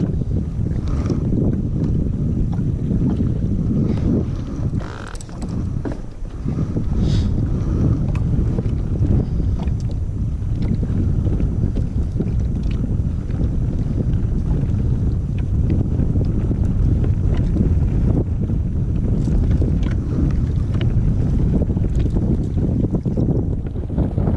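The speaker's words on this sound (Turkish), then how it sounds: "Rüzgar da var." Steady, heavy wind buffeting the microphone with a rushing roar of high waves and water around a fishing boat at sea, continuous and loud throughout.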